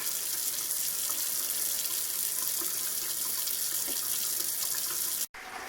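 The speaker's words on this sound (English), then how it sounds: "Started pumping water again." Water pumped into storage tanks at a cabin rushes in a steady, even hiss of flowing water, loud and close, cutting out for a brief moment near the end before resuming.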